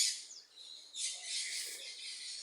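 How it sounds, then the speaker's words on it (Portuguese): Birds chirp outdoors in a dense, continuous high-pitched chorus of overlapping tweets and calls, fairly steady and moderately loud, with no voices heard. "Olha os pássaros aqui."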